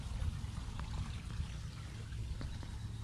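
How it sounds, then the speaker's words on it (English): Pond water flowing in a garden, a soft, steady trickle and splash heard faintly and evenly throughout. "So you can hear the pond water flowing there."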